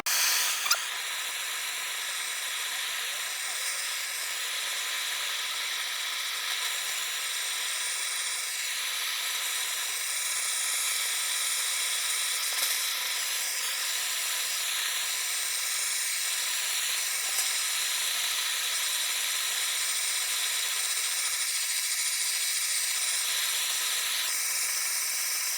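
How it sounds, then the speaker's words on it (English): Wood on a hand-turned and carved dragon bowl being burned with a torch to age it, giving a steady, loud hissing roar that runs unbroken throughout with no talking. "To make this look old, I can think of one only way, and that is to burn it."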